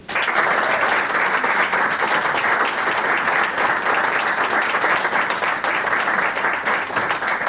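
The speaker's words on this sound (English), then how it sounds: "give a big round of applause for Stéphane Boukris" A conference audience in Bordeaux breaks into loud, dense applause, a thick, steady wash of many hands that holds evenly throughout.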